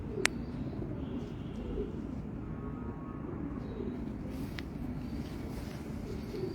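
Pigeons coo softly in a loft in Karachi, low murmuring calls repeating under faint background noise, with a brief sharp tap near the start.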